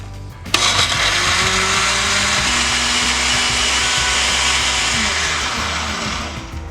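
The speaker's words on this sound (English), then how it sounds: "Now this is the fun part, we get to blend it." A blender grinding spices for a puerco pibil marinade starts with a sharp click and then roars loud and steady at close range, its whirring pitch shifting slightly as the contents break down before winding down at the end.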